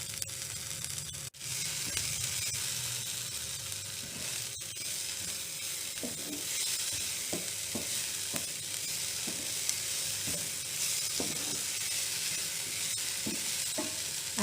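Beans and vegetables with salt and turmeric sizzle steadily in a pan, with the spatula scraping and clicking at irregular intervals against a constant frying hiss; no voices.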